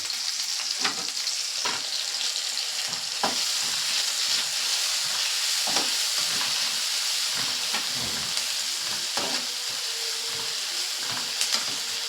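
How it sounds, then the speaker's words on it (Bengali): Dried red chilies, a bay leaf and onion fry together in hot oil for a Bengali stingray curry. A loud, continuous sizzle and hiss carries through, broken by occasional stirring scrapes, and no one speaks. "শুকনো লঙ্কা আর তেজপাতা পেঁয়াজ একসঙ্গে ভেজে নেব আর একটু তেল দিয়ে দিচ্ছি আমি এখানে।"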